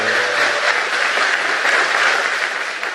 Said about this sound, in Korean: 이때는 따뜻한 박수를 여러분 해주셔야 돼요